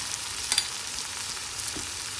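Garlic masala mixture with lemon juice and a little sugar sautéing in a pan for garlic masala pav, a steady soft hiss and sizzle with a couple of faint stirring scrapes, close and continuous.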